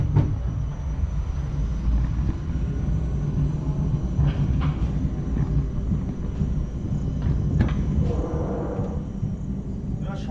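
A ropeway cable car on Mandar Hill hums along with a steady low rumble and wind buffeting, loud and continuous, with a few faint creaks and knocks rising over it.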